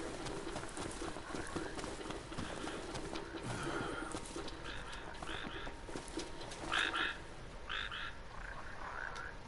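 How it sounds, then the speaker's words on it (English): A frog croaks in the Final Fantasy XV video game, repeated short chirpy croaks over game ambience with some footstep-like clops, moderately faint and intermittent across the scene. "Do you see this frog? Do you? Can you hear it?"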